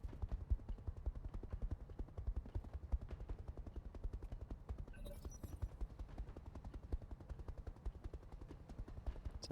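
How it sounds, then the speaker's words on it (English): A video game helicopter's rotor thumps in a fast, steady rhythm throughout, with a brief high burst of noise midway. "It's a nice meaty sounding helicopter."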